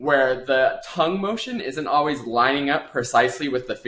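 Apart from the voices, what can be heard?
No everyday noises stand out.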